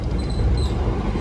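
Banyubiru passenger train running at speed, about 97 to 100 km/h, between Solo and Semarang: a loud, steady rumble of wheels and carriage noise, heard from on board with no talking.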